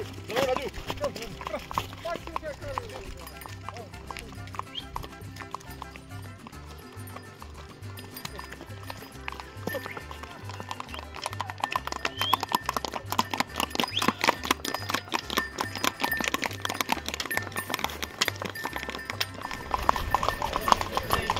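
Horse hooves clip-clop along a path in Pahalgam, Kashmir, in a steady rhythmic patter that grows busier and louder toward the end, with people talking over it.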